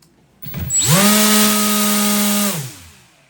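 An RC motor spins up an 8.5-inch, three-bladed folding 3D-printed propeller to about 12,500 RPM, a loud rising whine that holds a steady high-pitched buzzing tone for over a second before winding down.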